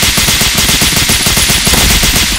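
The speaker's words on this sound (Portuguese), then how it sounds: "essa aqui já tem um silenciador ali na ponta" Rapid gunfire from a silenced weapon in the Brazilian FPS game Capital, a loud, dense, continuous burst of evenly spaced shots with no pause.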